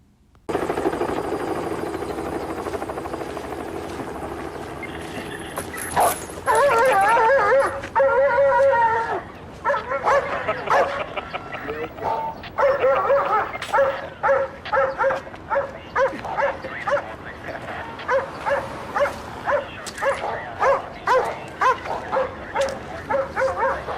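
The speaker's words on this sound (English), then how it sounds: "Damn dog got Norris, too" In a TV crime drama street scene from The Wire, a dog barks loudly and repeatedly, with yelps and whimpers, over a whirring helicopter-like drone, growing into a rapid, rhythmic run of sharp barks toward the end.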